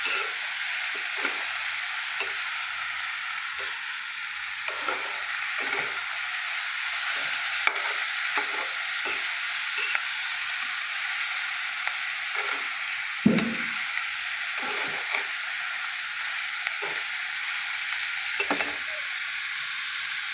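Chicken sautéing in a pan for tinola gives a constant loud close sizzle, broken by repeated scraping stirs against the pan throughout.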